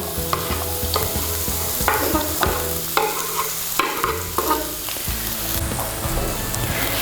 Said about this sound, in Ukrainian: І додаємо цибульку до пательні.